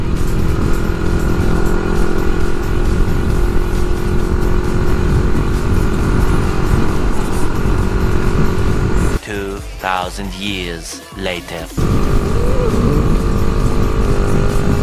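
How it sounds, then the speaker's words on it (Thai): A motorcycle low on fuel rides along slowly, its engine droning steadily and close, cutting briefly to a quieter stretch where a voice speaks before the engine noise returns. "น้ำมันไม่มีนะเลยต้องขี่แบบชิวๆไปชิวๆไป"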